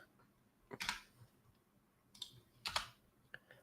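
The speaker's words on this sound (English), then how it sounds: "Why am I having a hard time typing this out?" Keys clatter on a computer keyboard in a couple of short bursts of quick taps, faint and close, with quiet gaps between them and no talking.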